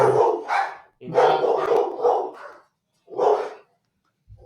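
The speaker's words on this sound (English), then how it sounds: "Dogs are barking." Dogs bark nearby in short bursts, a couple of rough, loud barks separated by silent gaps, heard on their own without talk.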